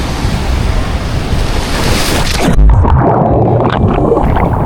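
Ocean waves at Nacpan Beach in El Nido, Palawan, washing in as a loud, continuous surf roar with heavy wind buffeting the microphone, the rush easing after a crash midway.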